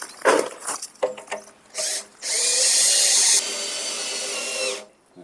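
A power screwdriver drives a screw back into a polycarbonate carport rafter: a few short trigger bursts, then one long loud whirring run that stops abruptly, all close by.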